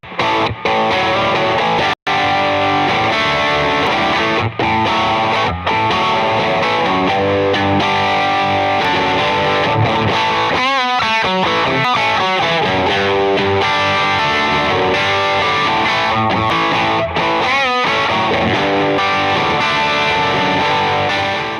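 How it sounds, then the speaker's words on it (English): Overdriven electric guitar with a warm, gritty screamer-style tone, sustained chords and notes ringing out loud and full, no voices. "First thing I dialed up is just kind of a screamer sound."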